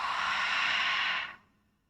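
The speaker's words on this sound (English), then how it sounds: "opening the mouth, fogging out" A single long open-mouth exhale during yoga breathing, steady and breathy for over a second before cutting off into near silence; close and fairly loud.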